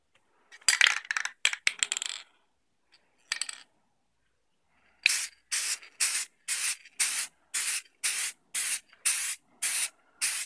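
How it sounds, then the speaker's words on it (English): A Valspar lacquer spray can fires a few ragged bursts, pauses, then gives about a dozen short, evenly spaced sharp hissing sprays, close and loud. "I'm going to go ahead and use some of this Valspar lacquer."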